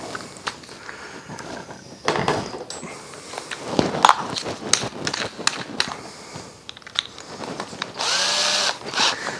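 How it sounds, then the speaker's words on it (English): Power drill with a 5mm bit boring holes while fitting a HNT Gordon pattern makers vise, heard as repeated short bursts of drilling mixed with handling knocks and clatter, ending in a steadier whine. "Now I can mark out, put my 5mm drill in again."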